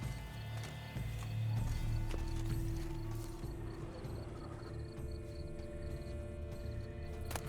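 Horse hooves clip-clop steadily over a busy, droning background of ambient tones and hum, in the video game The Witcher 3: Wild Hunt.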